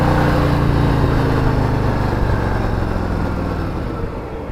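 A 2018 Harley-Davidson Road Glide Ultra motorcycle engine runs at a steady, close, loud rumble for the whole stretch, easing off only slightly toward the end, with no voices.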